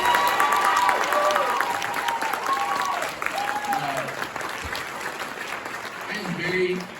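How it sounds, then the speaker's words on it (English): An audience applauds at a high school fall band concert, with a dense, steady wash of clapping from a large crowd and a few voices over it. "can we just give these guys another round of applause?"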